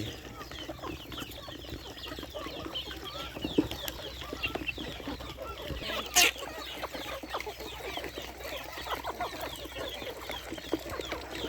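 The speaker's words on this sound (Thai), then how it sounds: "อยู่กับไก่" Chickens cluck steadily throughout, kept on a farm alongside Barbary (Muscovy) ducks, with a few louder squawks or wing flaps and a busy, close-up barnyard bustle.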